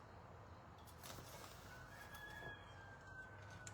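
A rooster crows in the distance, a faint drawn-out call over a steady background hum, with no talking.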